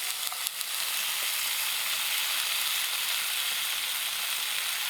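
Continuous bright hiss and crackle of food sizzling over a campfire, steady throughout with a few faint pops near the start.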